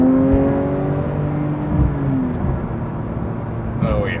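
A Porsche 992 or 991 Carrera T drones from inside the cabin while driving, its engine and exhaust tone steady and gradually shifting pitch beneath road noise.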